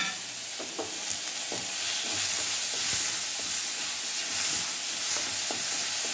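Onion, fennel seeds and tomato fry in hot oil for a dried-fish gravy, giving a steady loud sizzle with scattered clinks and scrapes of a spoon stirring the pan.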